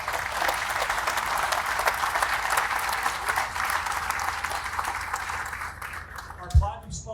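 Steady applause from a sizeable crowd at an awards ceremony, dense clapping that holds for several seconds before tapering off.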